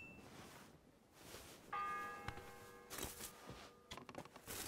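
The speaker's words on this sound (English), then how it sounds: "The first bell." Church bell ringing in the video game Kingdom Come: Deliverance 2, a single struck toll with sustained metallic overtones rising over a noisy background, followed by further louder clangs near the end.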